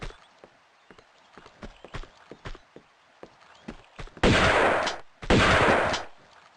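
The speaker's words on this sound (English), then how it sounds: "For that, you're gonna get blasted with a shotgun." Two loud shotgun blasts from Tomb Raider II ring out near the end, each with a short decaying tail, following a run of quiet, scattered footstep-like taps.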